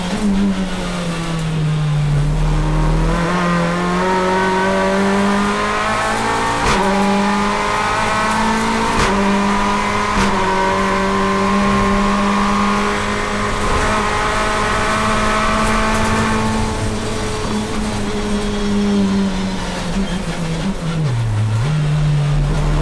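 BTCC touring race car lapping the Croft circuit in tricky conditions, its engine loud and close throughout with a sustained, rising and falling note and brief drops as gears change, pulling hard through corners with no talk.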